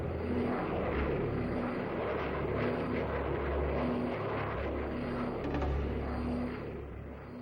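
A Thunderjet jet fighter flying, heard as a steady, loud roaring drone that fills the whole stretch and eases slightly near the end.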